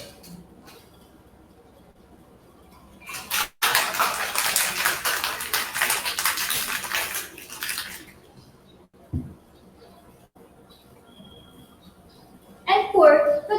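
Ice rattles hard inside a cocktail shaker during a tiki cocktail mixology competition: a dense, steady shaking lasts about four seconds, then stops abruptly, with a brief clatter near the end.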